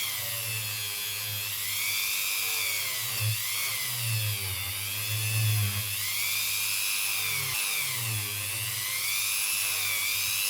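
Fire scale is cleaned off a ring made from an Irish 20 pence coin, a continuous high rotary whine wavering slightly in pitch while the tool works the metal, with no talking.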